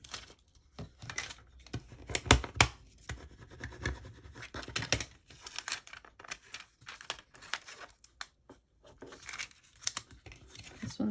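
Thick Cricut smart vinyl being peeled from a cut-out number 1, giving bursts of crinkly tearing and scratchy crackle close up, in irregular spurts with short pauses, with no speech.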